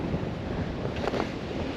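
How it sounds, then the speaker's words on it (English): Strong wind buffets the microphone in a constant low roar, with a faint rushing of water underneath and no voices. "and it's windy"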